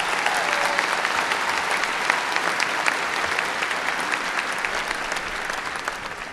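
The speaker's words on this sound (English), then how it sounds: "Please give those elementary principals a big round of applause." A large crowd at a high school graduation claps steadily for elementary principals, a dense, even wash of applause lasting throughout with no talk.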